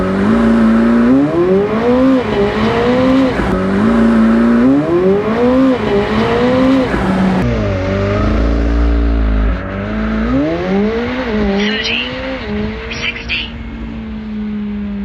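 A McLaren 765LT Spider supercar engine screams through repeated hard accelerations, pitch climbing and dropping with each gear shift, loud and close.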